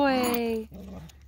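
Ridgeback or Cocker Spaniel whimpering in a short, high, falling whine close by, followed by faint quieter sounds.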